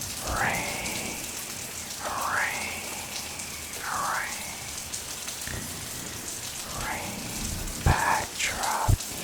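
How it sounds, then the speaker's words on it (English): Steady rain falls in a relaxing ASMR setting, a continuous soft hiss with rhythmic swishing sweeps and a few sharp taps near the end, and no talk over it. "I really enjoy the rain sounds."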